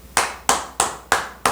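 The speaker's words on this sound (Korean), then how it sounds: "주님께서 박수를 치시는 거예요." Five sharp, evenly spaced hand claps ring out close and loud, one after another with short decays, no voices.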